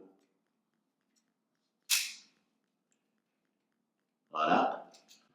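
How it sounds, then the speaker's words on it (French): A plasterboard cavity anchor is crimped with drywall anchor pliers, giving two sharp, close mechanical snaps a few seconds apart, separated by near silence, while preparing plumbing before a kitchen installation. "On prend notre fixation à placo, on le met sur la pince à placo, et quand je tire, ça vient écraser le placo."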